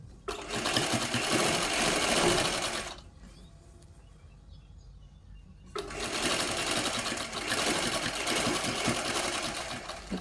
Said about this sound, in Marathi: मी तुम्हाला थोडासा शिलाई करून दाखवते जेणेकरून तुम्हाला सुद्धा ते लक्षात यायला हवं